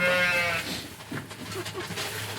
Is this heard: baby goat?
yes